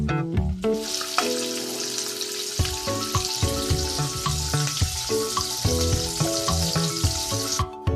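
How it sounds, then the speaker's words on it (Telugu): Dried fish (nethallu), washed in hot water, fries in oil in a kadai with a bright, continuous sizzle and crackle, heard under loud background music throughout. "ముందుగా కళాయిలో నూనె వేసుకొని తర్వాత వేడి నీళ్ళతో బాగా కడిగి శుభ్రం చేసుకున్న నెత్తల్లో వేసి బాగా వేయించాలి"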